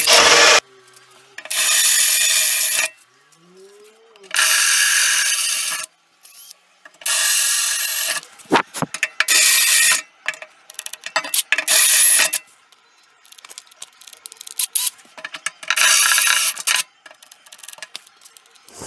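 A drill bores mounting holes through roughly 3 mm thick steel of a Holden Colorado bullbar, using cutting compound: loud repeated bursts of grinding, each lasting one to two seconds, separated by short pauses.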